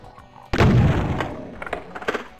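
A heavy shotgun blast booms from the Doom 2 video game, a loud sudden report with a rumbling tail, followed by a few sharper, smaller crackles and a final hit at the end.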